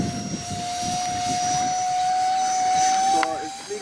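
A Lidl model glider fitted with an electric ducted fan screams overhead at full throttle, a steady high-pitched whine holding its tone for several seconds against outdoor wind, with a brief voice near the end.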